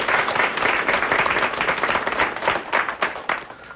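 An audience applauds at the close of a two-week health lecture on weight loss by a family medicine doctor. Dense, steady clapping fills the room at an even level for the whole stretch.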